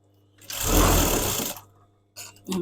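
A sewing machine back-tacking a seam on fabric shorts, a close, loud whirring run of stitching for about a second, then a shorter burst after a pause.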